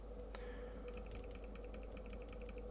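Soft, evenly spaced clicks of typing on a Samsung S25 phone keyboard with the Keys Cafe theme, a dozen or so crisp taps in a steady rhythm over a constant low hum.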